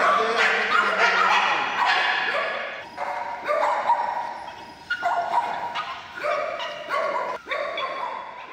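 Small dogs at an animal shelter bark repeatedly in loud, close bursts. The overlapping yaps and yips come in uneven clusters throughout.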